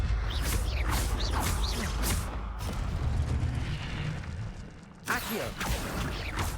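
Levioso levitation spell cast in Hogwarts Legacy, a dense layered magical burst with rumbling low boom and sweeping shimmering swishes, sustained for several seconds before a sharp fresh impact near the end.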